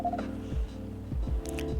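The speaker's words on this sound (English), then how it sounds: "Someone's phone's ringing" A phone ringing in the video game Coffee Talk, a soft electronic warbling ring repeating in short pulses over quiet background game music.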